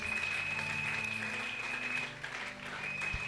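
Sustained applause from a church congregation at a Sunday service, acclaiming the word of God; steady clapping fills the space at an even level throughout, easing slightly near the end.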